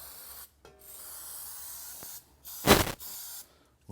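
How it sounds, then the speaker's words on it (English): Spray adhesive, such as contact cement, applied lightly onto an engine valve cover and gasket: a few short hissing spray bursts, the longest and loudest near the middle, set against steady workshop background noise. "So we're just going to lightly spray that."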